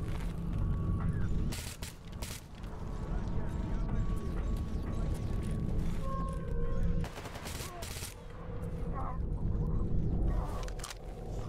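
Gunfire in the video game S.T.A.L.K.E.R. comes as repeated sharp bursts and volleys over a dense, busy game soundscape, with loud shots clustered near the start and scattered later.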